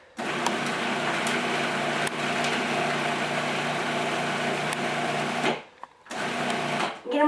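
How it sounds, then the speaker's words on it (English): A food processor chops fresh ramps for pesto, giving a loud, steady motor whir for about five and a half seconds before cutting out, then a short second burst. "put them right inside of our food processor"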